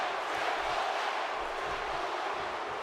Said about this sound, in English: listen to this crowd come alive for Triple H here